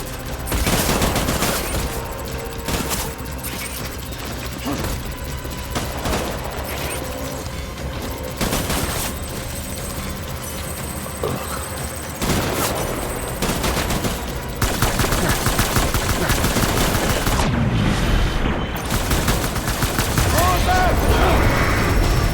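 Sustained gunfire from a firefight in the video game Death Stranding, with dense bursts and fusillades rolling continuously and loudly throughout, with shouted voices mixed in.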